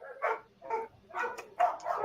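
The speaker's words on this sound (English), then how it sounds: "my dogs are going crazy" Dogs bark and yip in short bursts, four or five sharp calls spaced across a couple of seconds, fairly close in a quiet indoor room.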